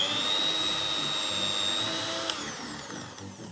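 A stand mixer grinds loudly through very hard butter, a steady high-pitched motor whine with a rough whirring drone that holds for several seconds and then eases slightly, like a drill, with no voices.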